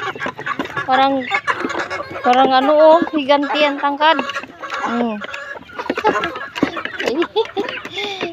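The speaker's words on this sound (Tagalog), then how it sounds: "Mga manok na pangit." Several chickens cluck and squawk busily nearby, their calls overlapping while a person talks over them.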